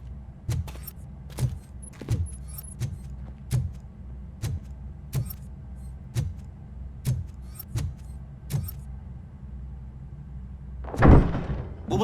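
Door opening in RoboCop: Rogue City, with a rhythmic series of heavy thudding footsteps and metallic clanks leading up to a louder mechanical rush near the end, close and without talk.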